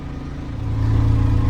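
The engine of a feed mixer truck with an automatic transmission hums close by from inside the cab, its low drone building steadily as it starts to rev.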